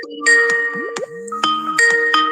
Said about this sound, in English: Skype notification.